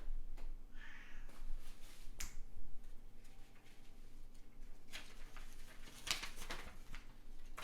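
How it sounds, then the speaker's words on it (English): A cat meows in the background of a quiet indoor room, with a short harmonic call near the start, then sharp snaps and rustles from handling objects nearby. "I apologize for the cat meowing"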